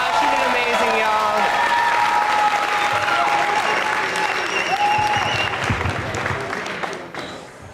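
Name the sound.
crowd applause for climber at competition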